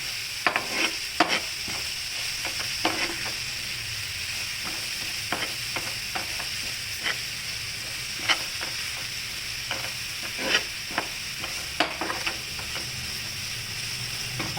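Onion frying in a pan until reddish: a constant close sizzle and hiss, with frequent sharp scrapes and taps from stirring scattered through it.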